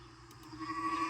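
A single sheep bleats once, close and fairly loud, with its cry rising toward the end.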